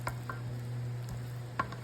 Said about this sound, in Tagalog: haluan na natin yung ating malagkit